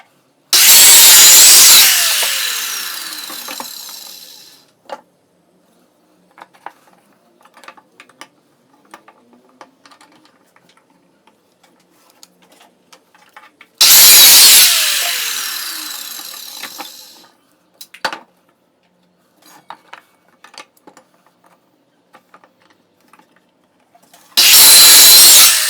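A power saw cuts reclaimed pallet wood for a stool in three loud bursts, each a few seconds long, followed by quiet clicks and handling noises of a C-clamp and wooden pieces.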